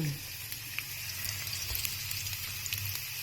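Chopped onions hitting a hot pan for a home-style beef and broccoli sauté, giving a steady, moderately loud sizzle with brief stirring clatter and a faint voice in the background.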